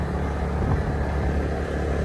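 A scooter's engine runs with three riders aboard, giving a steady, loud, close rumble that holds an even drone throughout with no pauses.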